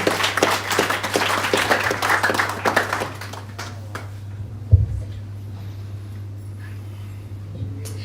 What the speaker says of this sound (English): let's give her a lovely applause and welcome her